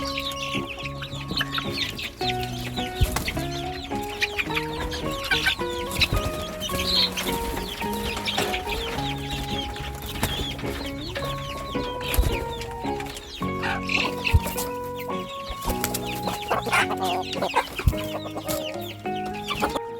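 Many young chickens cluck and chatter continuously while being fed mixed feed, close and busy, a steady flock sound with no talking.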